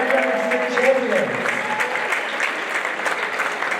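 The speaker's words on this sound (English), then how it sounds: "Let's hit a round of applause for our" A gym crowd at a high school boys' varsity basketball game applauds the 2024-2025 state champions with sustained, dense clapping. A loudspeaker voice briefly carries over the start of the applause.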